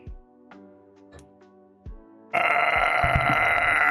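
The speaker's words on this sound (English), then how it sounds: "I bet they appreciate big burps." A single loud, prolonged burp erupts close to the microphone and holds its rasping, droning tone to the end, after a few quieter scattered sounds.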